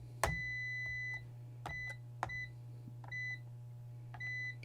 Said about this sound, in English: let's get the multimeter out and just check for continuity